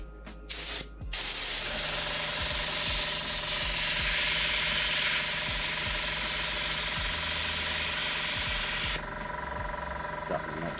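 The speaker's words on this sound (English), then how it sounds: "It's amazing how much crap gets stuck at the bottom of the airbrush." An airbrush blows a strong, steady close hiss of air and paint, as if clearing the nozzle while painting a Saab 105/SK60 scale model, with a few brief interruptions before the spray runs on continuously.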